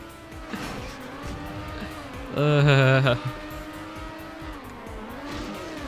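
A race car driving in Trackmania United Forever on a Star Wars Coruscant track, steady engine drone with rising and falling revs and a loud burst of acceleration midway, under a voice.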